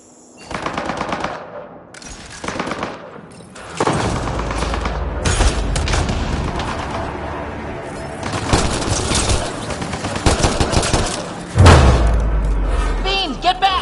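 Turrets in Mass Effect Andromeda hammer out rapid automatic gunfire in long repeated bursts, loud and close, with heavy thumps and impacts and voices speaking over the din.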